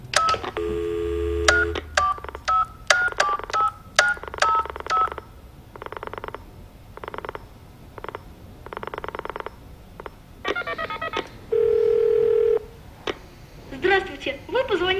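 A telephone number is punched in as a series of quick, separate touch-tone beeps, followed by a longer steady ring tone, in a Russian drama series, with speech between the tones.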